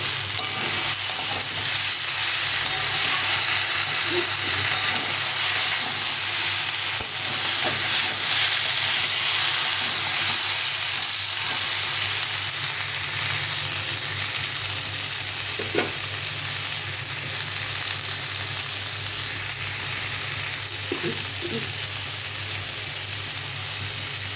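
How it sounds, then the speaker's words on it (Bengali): Tomato frying in a pan for a fish curry, a steady loud sizzle with occasional stirring scrapes throughout, no talking. "টমেটোটা দিয়ে একটু ভেজে ভেজে নেবো"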